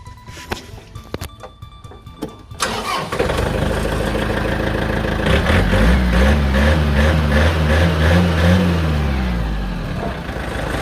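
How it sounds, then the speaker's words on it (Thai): A Yanmar EF494T tractor engine cranks over and catches, then settles into a loud, steady diesel rumble that keeps running close by. "เราลองมาสตาร์ทเครื่องยนต์ดูนะครับ"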